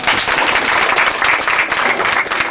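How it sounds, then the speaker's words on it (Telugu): Audience applause at a meeting, a dense burst of many hands clapping together, loud and continuous for a couple of seconds. "I just request to give a big clap for you"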